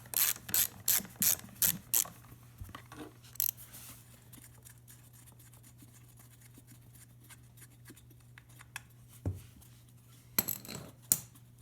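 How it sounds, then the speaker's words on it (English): Ratchet wrench loosening 14mm wheel nuts on a Honda ATC 200M three-wheeler: rapid rhythmic metallic ratcheting clicks up close at the start, a quiet stretch with light clinks, then another short burst of ratcheting near the end. "These are just 14mm nuts. So they're loose. Just one more just half snug. Loosen that off."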